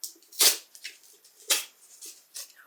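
Rustling and tearing of paper and cardboard as a book club package is opened by hand without scissors, in a few sharp bursts, close by, with softer crinkling between them.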